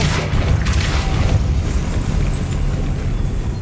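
Depulso spell cast in the video game Hogwarts Legacy, a deep booming whoosh with a few sharp crackling hits at the start, then a sustained low rumble that slowly fades.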